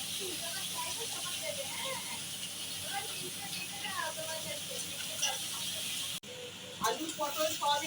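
Potato, pointed gourd and soya chunks fry together in a pan with a constant, close hissing sizzle, briefly cut off and then resuming with voices talking over it.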